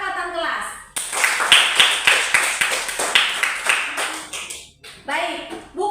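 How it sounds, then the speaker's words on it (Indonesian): A class of third-grade children claps together in a rhythmic classroom clapping cheer, sharp regular claps close by for several seconds, with a voice speaking before and after. "tepuk tangan untuk anak kelas 3 yang masih ingat tentang kesepakatan kelas"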